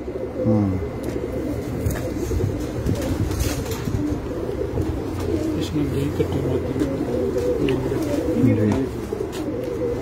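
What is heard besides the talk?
pigeons cooing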